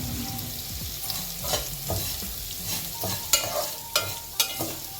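Vermicelli dry-roasting in a hot pan without ghee, with a steady soft sizzle and repeated scraping stir strokes, a few sharper clicks of the spatula against the pan near the end.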